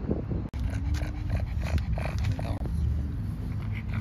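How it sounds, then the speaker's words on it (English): A pug pants loudly and heavily in warm weather while travelling in St. Louis, with quick, continuous breathing close to the microphone and a voice talking over it. "I'm sure you can hear Nugget breathing very loudly"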